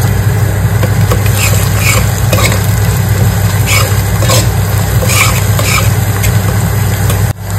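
Cilantro frying in a pan during preparation of a wam fish curry gives a loud, close sizzle with repeated stirring scrapes over a constant low hum.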